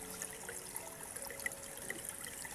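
Creek water runs steadily over a shallow bed, a soft continuous trickle heard faintly and evenly throughout with no talking.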